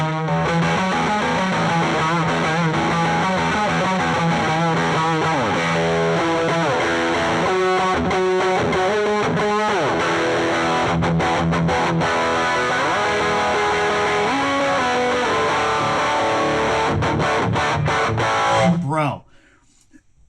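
A heavily distorted electric guitar riff plays continuously for most of the clip, loud and dense with effects, then cuts off abruptly near the end.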